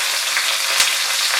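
Chopped carrot, capsicum, cabbage and onion frying over high heat for veg chowmein, a loud, steady, close hiss of sizzling with faint stirring sounds.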